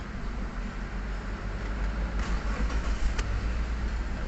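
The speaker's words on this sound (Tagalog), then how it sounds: "So, subukan nating i-start." A Subaru car engine starts and settles into a steady low rumble, with a few brief higher bursts near the middle. The sound is fairly close and continuous throughout.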